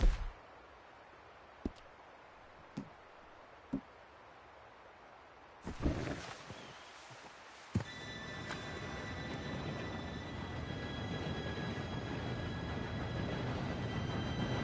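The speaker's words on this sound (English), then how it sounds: "Train should be here any minute now." In Red Dead Redemption 2, a few sharp clicks and thumps ring out over quiet ambience before a train pulls in, its loud, steady rumble and rail noise building and then holding to the end, with no talk.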